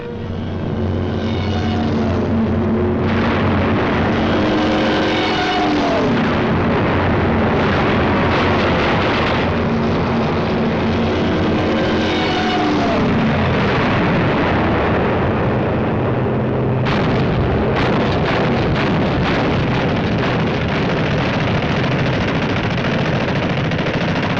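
A World War II Luftwaffe air attack on an airfield near the Tunisian border: sustained loud machine-gun fire and heavy explosions over droning aircraft engines, dense and continuous throughout with no talk.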